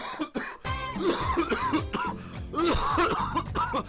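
A person coughs and makes harsh, raspy throat sounds in a choppy burst, close to the listener, with no clear speech.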